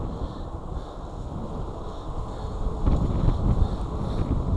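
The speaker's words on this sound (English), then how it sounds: "this wind." Strong hurricane wind buffets a microphone outdoors beside a 2024 Wired Freedom e-bike, a continuous low rumble that swells into heavier gusts in the second half, with no voices.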